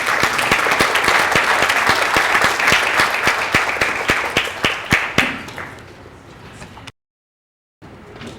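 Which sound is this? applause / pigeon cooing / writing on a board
applause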